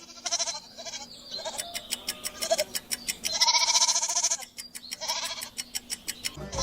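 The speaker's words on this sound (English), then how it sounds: "It's a goat." A farm goat bleats close and clear in a rapid series of wavering cries, with short pauses between bursts.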